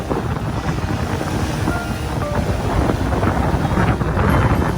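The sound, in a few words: wind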